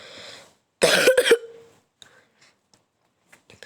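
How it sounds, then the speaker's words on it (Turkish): After a brief vocal sound, a burst of several harsh, close coughs from a person with a cold and blocked nose ends in quiet broken only by faint clicks. "Burnum tıkanık bir de öksürüyorum."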